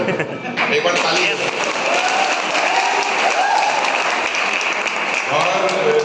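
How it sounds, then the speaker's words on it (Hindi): Sustained audience applause for journalist Manish Kashyap, a dense, steady roar of many hands clapping at a gathering, loud and continuous from start to finish with faint voices mixed in. "एक बार ताली।"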